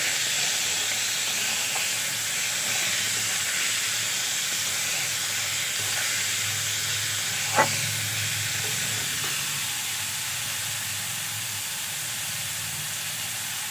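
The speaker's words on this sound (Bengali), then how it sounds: "পেঁয়াজগুলো খুব সুন্দর করে বাদামি কালার করে আমি ভেজে নেব" Chopped onions frying in a pan until browned, a steady broadband sizzle and hiss running the whole time at an even level, with one brief sharp tick midway and no voices.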